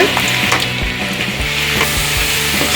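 Potato finger chips deep-fry in hot oil with a loud, dense bubbling sizzle, broken by several knocks of a ladle turning them, close and without talk.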